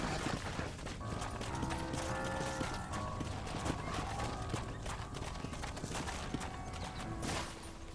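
Steady clip-clop of horse hooves in Red Dead Redemption over a busy mechanical, clattering bed, continuous and fairly close throughout, with a faint whinny-like tone.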